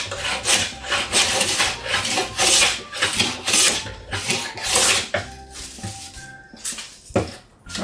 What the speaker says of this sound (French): Donc, on va le raboter.